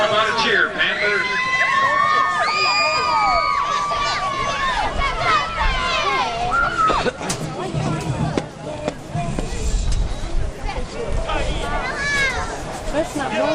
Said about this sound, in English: How about a cheer, Panthers?